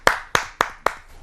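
Hand claps at a Hindi poetry gathering, four sharp, evenly spaced claps with a short echo after each, close and distinct with quiet between them.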